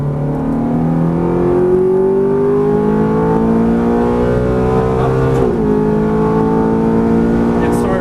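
A Ferrari F430 accelerates hard out of a corner on the Exotics Racing track in Las Vegas, its engine note climbing steadily through the gears with a brief dip at a shift, loud and continuous for eight seconds.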